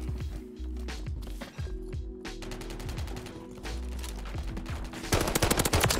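Video game gunfire in a fast-paced shooter match: rapid automatic bursts and repeated shots crackle close and loud, with a dense volley near the end and no talk.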